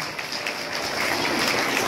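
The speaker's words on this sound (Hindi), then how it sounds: "तालियां प्रिया मैडम के लिए।" Audience applause at a Maharshi Dayanand Saraswati Jayanti celebration, a steady wash of many hands clapping, even and moderately loud throughout, with no voices over it.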